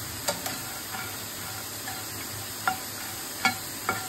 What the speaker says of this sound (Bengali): ফ্রাই হচ্ছে না, এটা একটু রোস্টেড করা হচ্ছে। এটা কোনো অয়েল ফয়েল দেওয়া হয়নি।